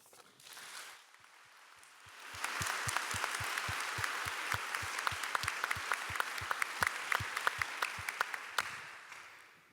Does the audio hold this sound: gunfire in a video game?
no